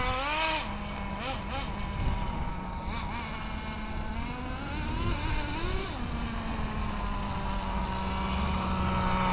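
A small XtM X-Cellerator Street Edition RC car engine with an RS4 motor upgrade idles close by, a continuous buzzing drone whose pitch wavers and swells slightly, running alone without pause.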